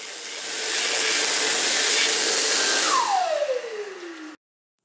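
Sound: Dyson Airblade hand dryer running

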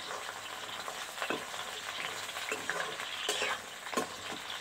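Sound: pointed gourd (parwal) frying in hot oil

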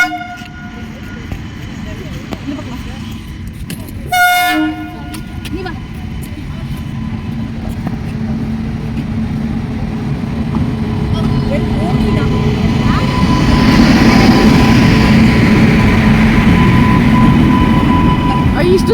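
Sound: small train passing

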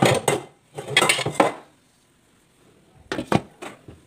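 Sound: covering a cooking pot of pork minudo with lid

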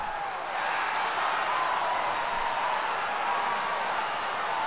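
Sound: stadium crowd cheering in Cars Mater-National video game

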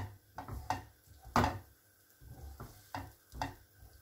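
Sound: onions frying in butter

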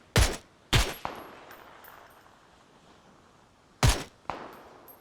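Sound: gunfire in the video game PUBG

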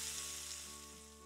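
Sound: onions and garlic sautéing in bacon fat in cast iron Dutch oven

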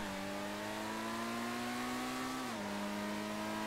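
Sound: Benefactor Krieger supercar accelerating to top speed, GTA 5 Online video game

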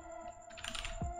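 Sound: typing on a computer keyboard

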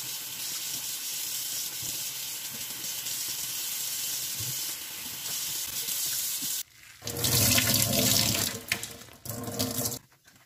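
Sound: rinsing under a running water tap

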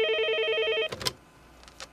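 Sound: telephone ringing late at night

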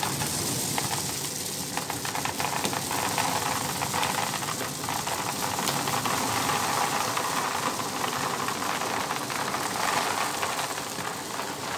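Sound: dry pet food kibble pouring from a bag

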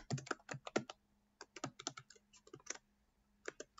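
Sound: typing a password on a computer keyboard

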